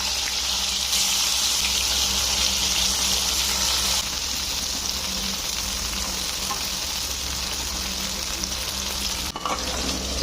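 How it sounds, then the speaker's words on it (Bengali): Salted hilsa fritters frying in hot oil in a pan produce a loud, continuous sizzle that stays steady throughout, with a brief clatter near the end. "তেল গরম হয়ে যাওয়ার পর আমি বড়াগুলো একে একে তেলের মধ্যে দিয়ে দেব"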